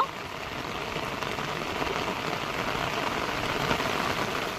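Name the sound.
heavy monsoon rain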